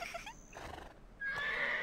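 A horse in the online role-playing game Black Desert Online whinnies in a bright, wavering neigh that rises near the end, heard up close and alone over faint ambient game sound.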